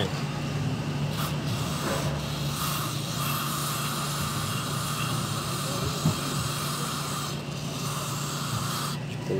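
Aerosol carb cleaner hisses in a steady, close spray onto a Toyota Vios VVT-i solenoid valve, running almost unbroken for several seconds, with faint mechanical background noise and no talk.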